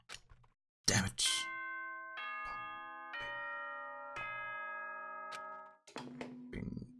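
A multi-tone school announcement chime from the video game Danganronpa rings out as sustained stacked bell notes, opening with a sharp burst and ending with a lower tone as a voice begins speaking.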